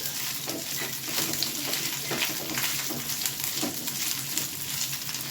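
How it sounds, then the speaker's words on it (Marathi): Halved okra frying in hot oil over a high flame, giving a steady, dense sizzle that stays loud and close throughout, with soft bursts of crackle and no talking. "तेलात भेंडी टाकून घेऊ आणि फास्ट गॅसवर आपल्याला चांगली भाजून घ्यायची होती तेलात."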